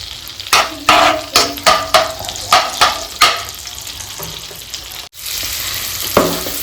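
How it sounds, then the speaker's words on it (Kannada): Chopped onion fries in a pan of butter and a spoonful of oil: a loud, steady sizzle punctuated by a quick series of sharp stirring scrapes and clatters, then a brief pause before the hiss resumes. "ಇವಾಗಾ ಇದಕ್ಕೆ ಆನಿಯನ್ ಹಾಕಿ ನೀಟಾಗಿ ಫ್ರೈ ಮಾಡ್ಕಂತೀನಿ"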